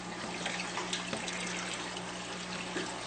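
Steady water flow in a nutrient film technique hydroponic system, where the nutrient tank feeds drip irrigation lines. It makes a continuous close trickling and rushing hiss with no pauses or talk.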